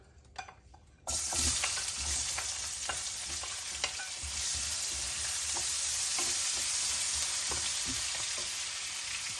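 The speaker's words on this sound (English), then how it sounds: "I'm just going to toss my already sliced onion into the oil." Sliced onion hits hot oil in a pan for a salmon stir fry, bursting into a loud, steady sizzle after a second of quiet, with occasional crackles and pops continuing throughout.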